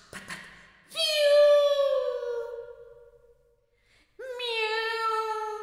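A person imitates a cat with two long, drawn-out meows, the first sliding down in pitch and fading before the second starts.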